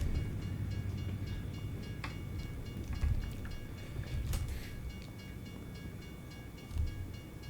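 Train rumbling past in American Truck Simulator, a steady low rolling roar with faint rail clatter that swells and lingers at moderate distance, heard alone.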